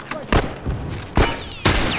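Bursts of gunfire in a multiplayer shooter game, Factions, come as three loud broadband volleys spaced under a second apart, with quieter game noise between them.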